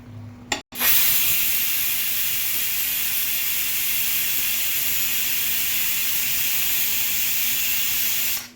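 A pressure cooker on the stove cooking drumstick pods releases a loud, steady jet of hissing steam after a brief click at the start, sustained and close.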